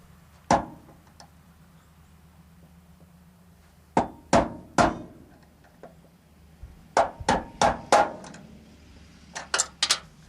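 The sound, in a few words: hammer knocking out door bushings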